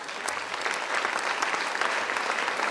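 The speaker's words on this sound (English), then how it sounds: "they all deserve a big round of applause" A full hall of audience members claps steadily and densely for school prize winners at an annual prize distribution ceremony, sustained applause with no speech.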